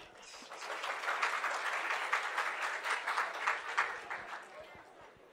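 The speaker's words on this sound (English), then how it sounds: "And also clap." Moderate, fairly close clapping from a group at a university orientation-day quiz session, sustained for several seconds and fading at the end, with no talking over it.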